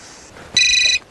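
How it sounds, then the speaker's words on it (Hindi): A telephone rings once, a short, loud electronic trill lasting under half a second and standing alone without talk around it. "मैं भी रोहन को फोन करती हूँ।"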